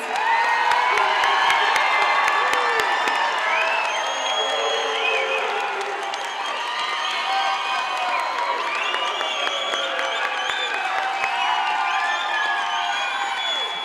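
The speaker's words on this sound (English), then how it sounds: "How about another round of applause?" Graduates' audience at a high school equivalency graduation ceremony applauds and cheers steadily for the whole stretch, a dense wash of clapping with whoops and children's shouts rising over it, loud and sustained without fading.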